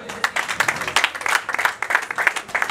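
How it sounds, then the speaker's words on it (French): Scattered, uneven clapping from a modest evening audience at a formal ceremony, a handful of hands beating in loose bursts rather than a dense roar, moderately close and with no talking over it. "Je voudrais vous demander d'applaudir Monsieur Hervé PTT, s'il vous plaît."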